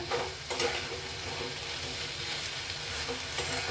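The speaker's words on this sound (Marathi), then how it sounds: "आता गॅस फास्ट करून असं मिक्स करून ठेवलंय सगळं" Vegetables sizzle and fry in a pan over a high gas flame while being stirred and mixed, giving a steady close hiss broken by brief scraping clatters of the spoon, with no one talking.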